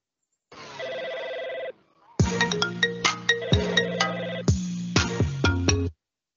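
Incoming call ringing on an AudioCodes WebRTC softphone: a short electronic tone, then a loud, bright chiming ringtone melody of repeated struck notes for several seconds, heard alone without talk.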